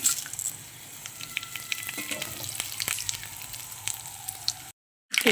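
Whole spices frying in hot ghee for a coconut milk pulao, a steady close sizzle with crackles that cuts to brief silence near the end before resuming.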